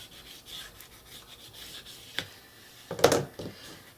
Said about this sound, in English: I'm going to give it a burnish around the edges here.